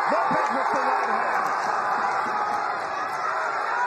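A boxing crowd in Galveston, Texas erupts in a loud, sustained roar of cheering and whooping that fills the whole stretch, with faint voices mixed into the din.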